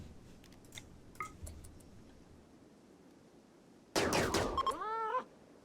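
A cat meows loudly near the end in the video game Rimworld, a short series of rising and falling calls after quiet clicks and faint game noises.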